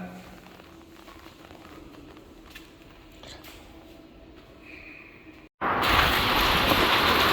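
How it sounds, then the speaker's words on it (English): Heavy rain pours down on a rainy night in the Philippines: a steady broadband wash that surges much louder and denser for the last couple of seconds, with no voices. "Just look at this weather. It is pouring down."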